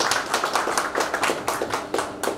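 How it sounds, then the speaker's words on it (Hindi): Audience at a business motivation seminar in Mumbai clapping for a finance expert, sharp close hand claps in an uneven rhythm, loud and unaccompanied for a couple of seconds. "एक बार भरत जी सोलंकी के लिए जोरदार तालियां बजाएं।"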